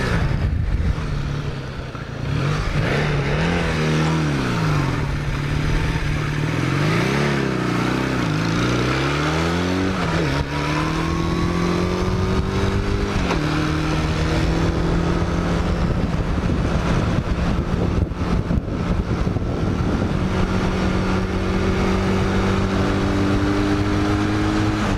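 A Honda CX500 and a Kawasaki LTD440 are out on their first ride of the season. Close, loud engine noise rises and falls through repeated gear changes and revs, with wind rushing past steadily throughout and no talking.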